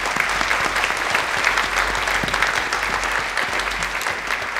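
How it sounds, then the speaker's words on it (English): Audience applause fills a school board event in a public school district, a steady, dense clapping that runs evenly throughout with no voices above it. "I just want to give another round of applause"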